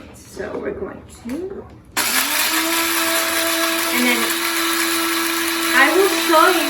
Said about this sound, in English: So we have a coffee grinder, we have the cacao, and we're going to plug it in.